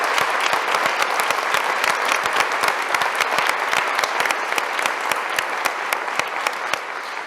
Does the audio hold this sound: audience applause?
yes